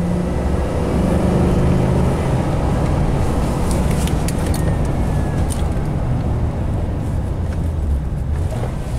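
GM truck engine revving in first gear with a possible misfire, a loud continuous low roar with road and wind noise that holds steady throughout.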